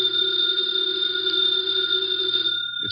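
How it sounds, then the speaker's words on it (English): A house telephone bell ringing in one continuous, steady electric trill, loud and close with no pauses or talk, cutting off at the very end. "The phone is ringing."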